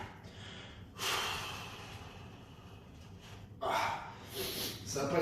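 A person hanging upside down in Teeter inversion boots breathes out hard, with forceful breathy exhales and snorting rushes of air repeated in bursts, close and alone.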